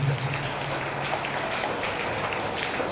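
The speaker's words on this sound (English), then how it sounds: "give a big round of applause for your teachers and for your students who have done good work" A school audience claps steadily for teachers and students after a value education programme performance, a dense, even patter of applause with no voices.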